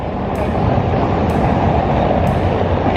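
A Prague tram rumbles past, loud and close, a steady low roar of rail noise with a few faint high squeals along the way.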